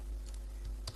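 A few keystrokes on a computer keyboard while typing a Python print command, close and fairly quiet, with one sharper click near the end.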